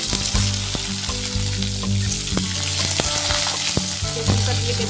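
Vegetables frying in hot mustard oil in a wok after the spices are tempered: a steady, close sizzle with occasional sharper crackles and spatters, no voices.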